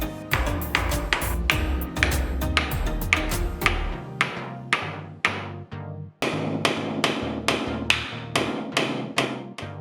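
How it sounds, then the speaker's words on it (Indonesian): Hammer blows drive concrete nails through an edge beam into a wall during ceiling frame installation, a steady run of sharp, ringing strikes, close and loud, with a brief pause midway before the rhythmic hammering resumes. "Memaku balok tepi ke dinding dengan menggunakan paku beton"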